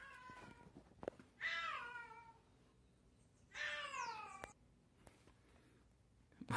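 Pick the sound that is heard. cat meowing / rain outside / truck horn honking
cat meowing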